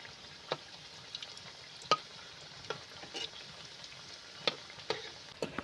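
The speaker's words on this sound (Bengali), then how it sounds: "তেল গরম হয়ে গেছে, এবার আমি একটা একটা করে দিয়ে ভেজে নেব" Wholewheat nimki, a crisp flour snack, fry in hot oil over low heat. A faint, steady bubbling hiss runs throughout, broken by scattered soft crackles and pops.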